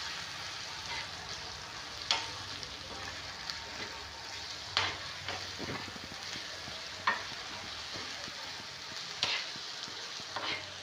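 Chili powder and spices stirred and roasted in a hot pan for tava pitla, a steady sizzle with occasional sharp scrapes of a spoon against the pan, close and alone with no talk.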